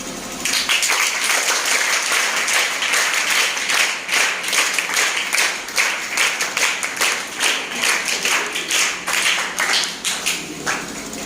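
A crowd claps steadily and loudly without a break at Jai Bharat School's August Kranti Diwas celebration, the dense applause rising and falling slightly in waves.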